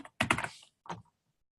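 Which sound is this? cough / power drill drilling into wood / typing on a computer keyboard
typing on a computer keyboard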